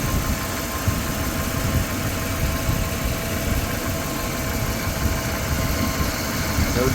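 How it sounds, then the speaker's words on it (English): A 2005 Ram 1500 truck's replacement 5.7L Hemi engine runs steadily at idle, a continuous low rumble with faint vibration throughout, close by and fairly loud. "Well, the engine sounds good."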